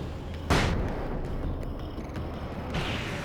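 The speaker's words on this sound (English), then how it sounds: "Let's just go ahead and flashbang this one." Flashbang grenade going off in the video game Alan Wake's American Nightmare, a sudden loud broadband blast followed by a sustained hiss and rumble, with a second burst of noise near the end.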